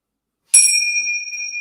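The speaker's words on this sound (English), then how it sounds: "Would you like to ring our bells to begin, Miss Avery?" A small bell is struck once to open a children's yoga class, a bright ding with a sharp attack that rings on and slowly fades in an otherwise quiet room.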